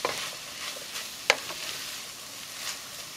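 Leftover turkey empanada filling cooks in a pan with a quiet, steady sizzle and a sharp utensil clink partway through, close by, with no talking.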